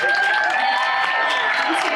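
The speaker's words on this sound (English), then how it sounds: "Can we also get a round of applause for the volunteers and the convention staff?" A theater crowd at an anime convention claps for the volunteers and convention staff, a steady roar of applause with a sustained whistle or cheer riding on top.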